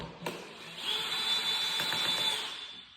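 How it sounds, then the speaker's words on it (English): A power drill with a star bit whirs for about a second and a half after a sharp click, removing screws, its high motor whine spinning steadily close by. "if you have a star bit set, you just drill"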